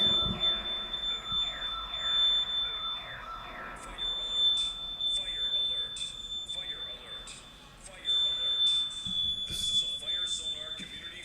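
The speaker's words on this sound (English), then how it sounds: "So our smoke detector went off." A smoke alarm shrieks with a steady high-pitched tone throughout, while people talk and move around underneath it.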